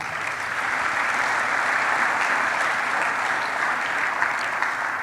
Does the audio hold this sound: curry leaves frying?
no